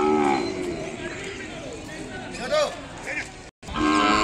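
A young bull calf at a cattle market lets out a loud nearby moo with rising and falling pitch, followed by a shorter call after a brief gap, over busy crowd noise.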